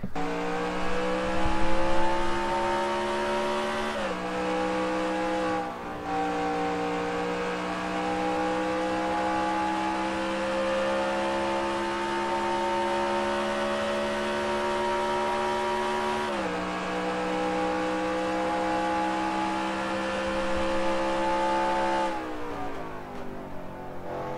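Race car engine heard from an in-car cockpit camera in a racing video game, a loud continuous high whine rising through the revs, with sharp dips at gear shifts and a steady climb between them.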